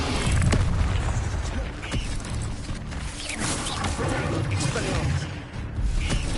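Fire spell effects in a Harry Potter wizard video game, loud booming whooshes and crackling bursts that repeat over busy game noise, with a voice speaking over them.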